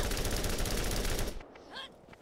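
Rapid pistol fire from a high-rate 'bullet hose' gun in the Borderlands video game, a dense continuous burst of shots for over a second that cuts off abruptly, followed by a brief quieter tail of game effects.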